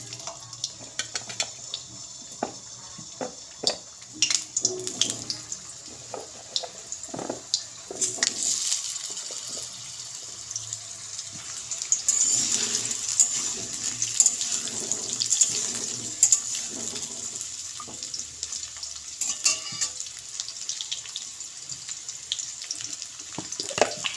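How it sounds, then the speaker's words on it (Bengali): Two large potatoes, cut into small pieces, sizzle in hot oil with a continuous close hiss and scattered crackles throughout. "আমি এবার দুটো বড় সাইজের আলু এভাবে ছোট ছোট করে কেটে নিয়েছি। তেলের উপর আলুগুলো দিয়ে দেব।"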